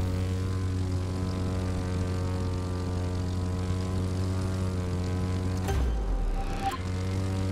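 A propeller aircraft flying low in The Crew 2 racing game, a steady droning engine hum with strong tonal harmonics, briefly broken by a whooshing burst near the end, no speech.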